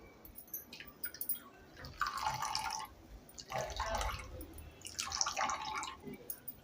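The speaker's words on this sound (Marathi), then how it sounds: "आता परत हे मिश्रण गाळून घेऊया आणि दूध काढून घेऊया" Ground coconut mixture is strained by hand to press out coconut milk for Malvani sol kadhi. Soft wet squelching and trickling liquid come in three quiet bursts, close by.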